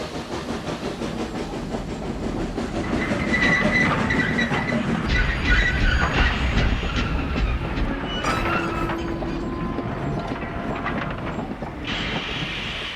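A steam railway engine pulling a train in an animated film rumbles along with rhythmic clickety-clack of wheels, steady and fairly loud, with hissing and metallic squeals near the end.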